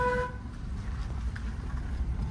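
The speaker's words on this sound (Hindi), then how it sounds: "यहाँ पे हॉर्न दे दिया करो।" A short car horn toot sounds at the very start, followed by the low, steady rumble of a vehicle engine.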